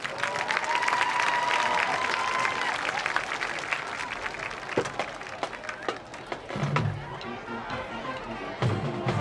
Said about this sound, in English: let's give one more round of applause for our alumni band tonight